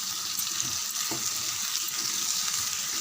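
Potatoes and green peas sautéing in a pan for a potato and pea gravy, a steady close sizzle with faint scraping and a brief stir knock, no talking.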